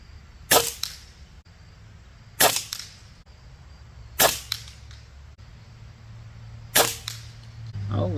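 Four sharp airgun shots fired with JSB pellets from a rifle fitted with a night vision scope, spaced a couple of seconds apart, each a crisp close crack with a short tail, alone without talk.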